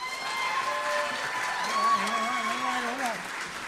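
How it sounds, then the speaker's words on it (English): A pageant audience at a Miss Juneteenth Nevada scholarship event gives sustained applause, a steady moderate clapping wash with cheers and voices rising over it. "you're already giving a round of applause, which is definitely deserved"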